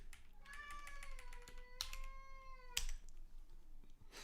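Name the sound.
cat meowing plaintively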